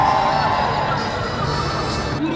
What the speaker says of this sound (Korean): 환호가 터져 나옵니다